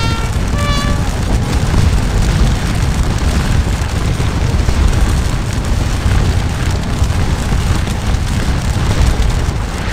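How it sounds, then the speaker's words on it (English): Musket volleys and cannon blasts from the Napoleonic battle game Scourge of War: Waterloo merge into a dense, unbroken roar of gunfire and booms that stays loud and steady throughout, with no talking. "taking heavy fire on their flank"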